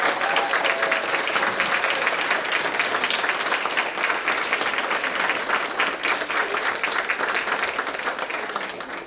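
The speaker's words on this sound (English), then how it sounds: "Let's give her a huge round of applause." A crowd of attendees at a school district board meeting breaks into sustained loud applause, dense clapping that carries on at full strength for several seconds before slowly tapering off.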